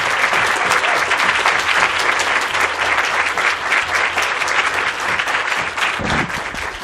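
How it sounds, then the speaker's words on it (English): At a public service award student speaker event, an audience breaks into a full round of applause, thick even clapping that stays loud before easing slightly at the end. "Round of applause."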